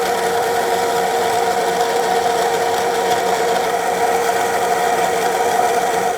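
An xBloom Studio grinder grinds espresso beans at its finest setting 1, a loud steady whirring buzz that runs for the whole stretch with no talking.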